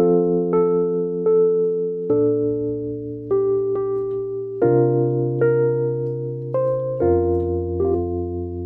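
A keyboard plays a basic gospel melody over full sustained chords and a bass line without reharmonization, unhurried and close, with the harmony shifting every second or so and no voices.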